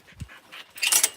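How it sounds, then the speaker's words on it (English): Excited puppies are let out in the morning, giving a quick scuffle of paws, panting and small whimpering noises close by, with a faint jingle and no talking. "Oh, such puppies are going crazy."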